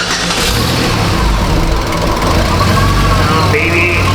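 A 2005 Chevrolet Equinox with a 3.4 engine that runs rich, loud and close, with a dense engine roar and a change in pitch near the end that may be the engine catching and settling.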